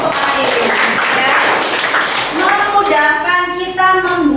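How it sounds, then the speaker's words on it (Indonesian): Students in a classroom clap their hands together in brief group applause, a dense patter of claps fading out as a voice begins talking over the end. "Kita beri tepuk tangan dong untuk Ayu"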